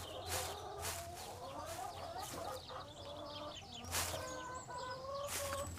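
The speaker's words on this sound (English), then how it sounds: "Just keep a lookout for our silly hens." Hens cluck in a cartoon farm barn, giving short, repeated, quiet bursts of fowl chatter at intervals.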